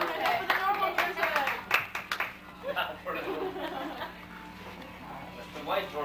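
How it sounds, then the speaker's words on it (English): Scattered clapping from a few people at a home party, loud and close, mixed with chatter, chuckles and laughter, then overlapping talk. "Clap, clap, clap, clap."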